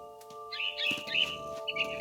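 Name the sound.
bird chirping in What Remains of Edith Finch video game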